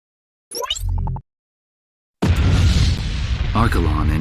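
Explosions in the video game Ace Combat X: a short deep booming burst, a pause of silence, then a long dense roaring blast with rumbling debris and crackle.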